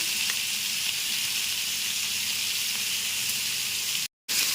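A steak seasoned with black pepper sizzles in a frying pan, a loud, steady hiss close by that cuts out briefly near the end.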